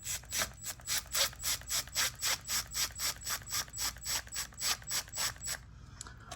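A ratchet wrench snugs bolts on a Mercury 115 outboard during a water pump replacement, clicking in a fast, even series of about twenty loud, close strokes before stopping.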